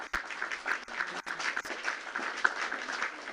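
Applause from a group, a dense even patter of clapping at moderate level with a few sharp individual claps standing out, sustained throughout without speech.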